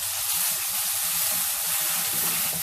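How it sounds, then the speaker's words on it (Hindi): A ground masala gravy paste for Sindhi-style rawas fish curry hits hot oil and sizzles loudly up close, a dense, even spitting hiss with bubbling pops that carries on steadily with no talk. "ऑयल हमारा गर्म हो चुका है। इसमें हम डालेंगे ग्रेवी जो हमने पीसी है"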